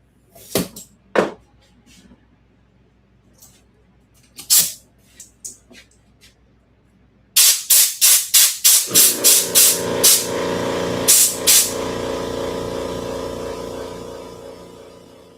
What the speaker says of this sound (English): I'm going to hit it with some compressed air with this bearing cover on